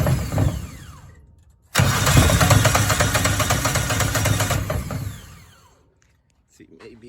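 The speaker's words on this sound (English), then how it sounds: "let's see if it'll crank over." A replacement engine on a Miller Bobcat 225 welder generator is cranked by its starter, a loud, close, steady grinding for about three seconds that then winds down into silence.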